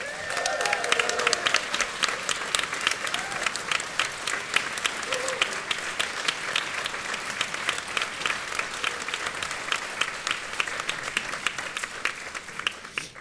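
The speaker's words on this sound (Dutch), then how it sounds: "Geef ze nog een applaus" Audience applause at a 2022 music night in Sint-Lenaarts, a dense, steady crowd clapping that holds at an even, fairly loud level for the whole stretch.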